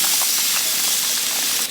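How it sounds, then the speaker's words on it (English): Seasoned tofu and onions sizzling on a Blackstone griddle, a loud steady hissing crackle with scattered pops running throughout. "Seasoned tofu, onions on a grill."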